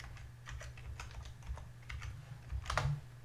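Steady typing on a computer keyboard while creating a script file for a GTA 5 map mod, a run of quick close clicks over a low background hum, with a louder burst of keystrokes near the end.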